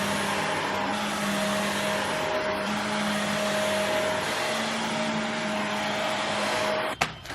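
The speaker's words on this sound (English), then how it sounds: "This vacuum really just sucked all that up with like no problem." A Shark Navigator Lift Away Deluxe vacuum runs over carpet with a steady, loud motor whine and airy suction hum, the tone holding constant for about seven seconds before a sharp click or thump as it stops.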